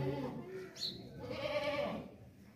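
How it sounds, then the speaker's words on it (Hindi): A large pregnant goat of the Makhi Cheeni breed gives a couple of soft, wavering bleats at close range, heard faintly and without talk over it. "बहुत बड़ी बकरी है, मक्खी चुनी बकरी है"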